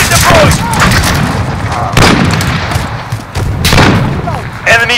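Frag grenade explosion in the video game Call of Duty Modern Warfare 2019, loud booms and thuds among gunfire and battle noise, with heavy bursts near the start, around two seconds and again later.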